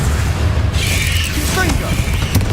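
Bombarda explosion spell in the Hogwarts Legacy video game: a loud, deep booming rumble rolling on throughout, with a burst of magical whooshing and tonal shimmer layered over it and some vocal sounds mixed in.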